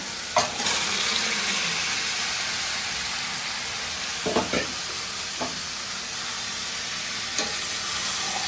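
Chicken fries with ginger garlic paste in a pan, giving a steady, rain-like sizzle broken by a few sharp scrapes and taps of stirring up close.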